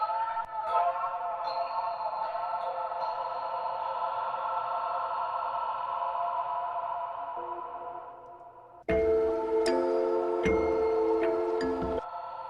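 A sustained, shimmering tonal wash from a pitch-shifting reverb effect, with slowly drifting upper harmonics, fades out, then a brighter, denser burst of layered tones cuts in and stops abruptly.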